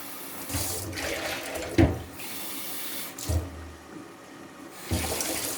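About two and a half cups of water are poured into rice in the kitchen for a Kashmiri dal chawal recipe. The water comes in several splashy bursts of pouring and trickling, close by, with short pauses between them and no talk.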